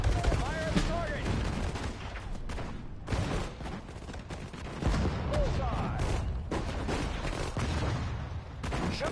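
Video game machine gun fire in an Allied final mission comes as dense, loud bursts of rapid shots mixed with explosions, while voiced unit callouts are heard throughout.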